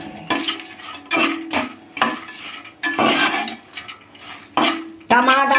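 Spices such as cumin and coriander seeds knocking in a pan for tomato chutney, with a run of sharp clanks and scrapes from a metal utensil against the cookware, coming in uneven bursts at close range.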